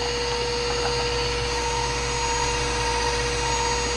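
Electric mixer running at steady speed while beating oatmeal raisin bar batter with molasses and vanilla, a loud continuous whirring motor drone close up, no talking.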